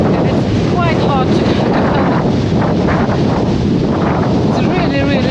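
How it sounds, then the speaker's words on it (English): Strong wind buffets the microphone at Skagen, Denmark, at the country's northern tip where two seas meet. The roar is loud and constant, and faint voices are buried under it. "It's windy."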